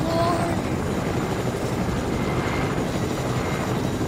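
A helicopter in the video game Fortnite drones with a steady rotor thrum and engine whine, loud and continuous, while a player talks over it.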